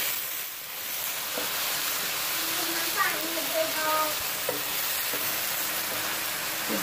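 Chicken frying with tomatoes and ginger-garlic paste while being stirred in a pan, a steady broadband sizzle with occasional scraping clinks of the spoon, fairly close and continuous with no talk over it.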